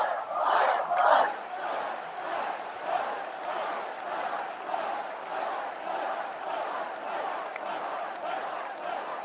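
A large rally crowd chants a rhythmic slogan and cheers. The chant is loud and steady, with repeated beats, and a stronger roar at the start leads into sustained chanting across the whole stretch.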